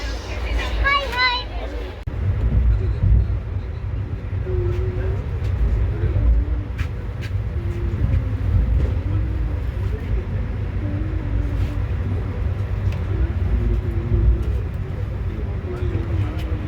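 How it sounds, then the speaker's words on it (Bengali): Santragachi to Puri special train running just after leaving the station, heard as a steady, loud low rumble that fills the whole stretch, with muffled voices in the carriage. "চলো অ্যাটলিস্ট ছেড়ে দিয়েছে ট্রেন"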